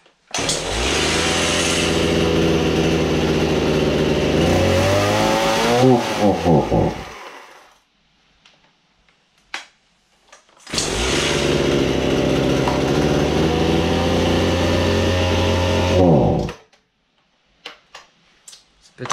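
A chainsaw engine runs during carburetor adjustment in two loud bursts of several seconds each, with the revs rising and falling. Quiet pauses in between carry small clicks and handling noises.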